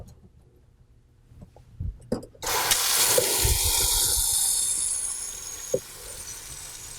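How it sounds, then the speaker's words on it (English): Warm water gushes loudly from a tap into a plugged laundry sink, a steady rushing fill that starts abruptly after a few soft handling knocks and holds strong, easing slightly toward the end. "then we're going to fill it with warm water"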